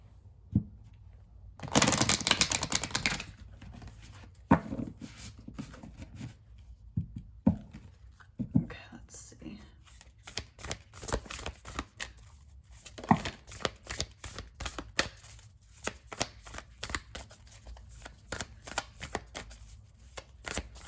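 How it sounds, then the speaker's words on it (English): Oracle and tarot cards being shuffled and pulled from their decks, a dense riffling burst near the start followed by soft, irregular papery flicks and taps, quiet and close with no talking. "I'm going to pull another oracle card from this deck, and then I will pull another tarot card"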